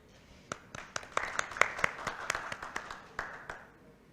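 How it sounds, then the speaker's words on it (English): Sparse clapping from a small audience at a wealth summit panel, a dozen or so distinct sharp claps at irregular intervals, fairly close, with faint voices beneath. "kindly give a round of applause for our moderator"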